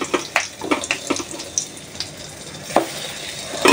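Pumpkin fritters drop into hot oil and fry with a crackling sizzle. Sharp pops and splatters come irregularly, some loud and close, over a quieter bubbling bed.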